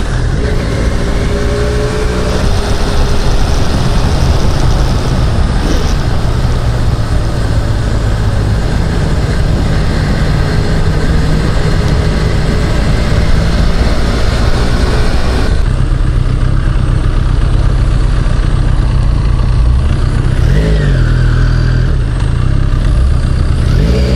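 Continuous Benelli Leoncino motorcycle engine droning steadily for the whole stretch while riding, with slight rises in pitch as it revs, loud and close, no talking.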